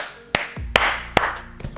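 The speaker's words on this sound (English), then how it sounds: "Guys, can I get a clap?" A few separate, sharp claps ring out close by, spaced about half a second apart, each followed by a brief low thump, with no talking between them.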